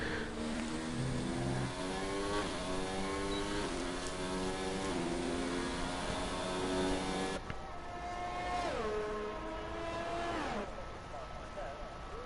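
Race cars in a racing video game, several engines whining and shifting through gears in overlapping rising tones, with one car passing close partway through, loud and continuous.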